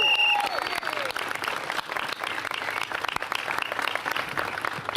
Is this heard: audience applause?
yes